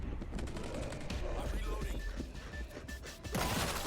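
Rapid gunfire bursts and crashing impacts from the zombie shooter World War Z, dense and loud throughout with action noise layered underneath and some voices mixed in.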